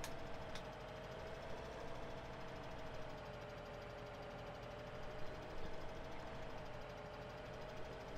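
A tractor engine in the video game Farming Simulator 2017 holds a steady, low droning hum throughout, fairly quiet and unbroken, with no voices over it.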